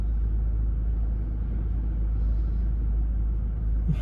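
A Range Rover creeps forward slowly in a car park under park assist, heard from inside as a low, even cabin rumble with a faint brief tick near the end.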